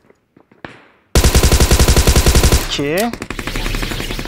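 Rapid automatic gunfire in the mobile battle-royale game PUBG Mobile, a loud fast stream of close shots after a few quieter clicks, then a rising whine and scattered further shots, with a brief spoken word.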